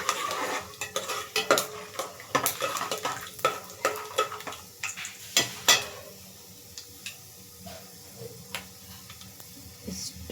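Spices roasting in a pan for vaangi bath (brinjal rice) are stirred with a metal spoon, sharp scraping clinks and taps over a light sizzle, busy at first then sparser and quieter.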